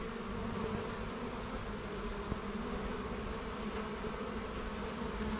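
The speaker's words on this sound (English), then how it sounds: "the bees are flocking to that corner to get in" A dense, steady buzz of many bees crowding around a hive entrance fills the air continuously, close and even in volume, with no voices.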